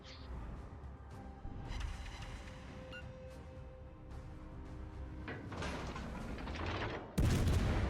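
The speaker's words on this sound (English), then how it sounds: "So we're able to get these shots off on these battleships out here without being spotted." Naval guns fire at distant battleships in World of Warships Legends, the cruiser Haarlem's shots sounding as booming reports mixed with game effects and rumble, building to a louder blast at the end.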